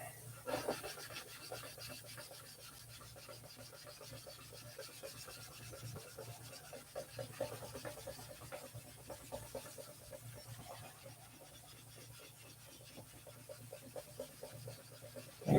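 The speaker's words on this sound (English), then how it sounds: "Anybody got any idea how many hours I got sanding on this airplane?" Steady, continuous rasping of hand sanding on an airplane's surface, strokes running back and forth at an even pace, fairly quiet and close.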